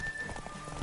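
Horse hooves pound in The Witcher 3 video game, a quick cluster of close, soft clops over a steady background hum, lasting under a second.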